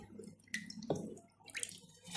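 Freshly washed potato slices for crispy chips drain in a kitchen sieve, giving short, soft splashes and drips of falling water in a few quick bursts.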